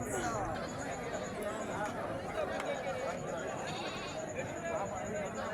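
Goats bleat repeatedly at a busy livestock market at Pambu Kovil, their cries overlapping a steady hubbub of crowd chatter and people talking nearby.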